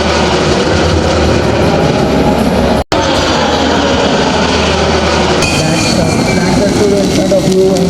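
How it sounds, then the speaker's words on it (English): Sukhoi fighter jet landing on a runway at an air show in the Andaman Islands, a loud continuous roar filling the whole stretch with one brief dropout, close and overwhelming. "the landing gear is down and the aircraft is about to touch down on the runway"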